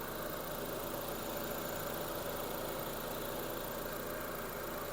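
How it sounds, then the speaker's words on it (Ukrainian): A Renault Megane 2 engine idles with a steady, even hum and faint rattle, continuous and close, with no voices. "Робота двигуна."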